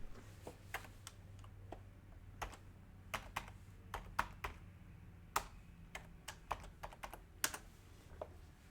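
Typing on a computer keyboard, scattered quick key clicks in irregular bursts close up against a quiet background, no talking.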